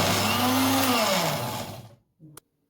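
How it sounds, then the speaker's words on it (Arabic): A blender whirs loudly for about two seconds, its motor pitch sliding downward before it cuts off, followed by a brief clunk. "هضربها في الخلاط"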